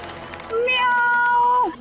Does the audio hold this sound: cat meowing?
yes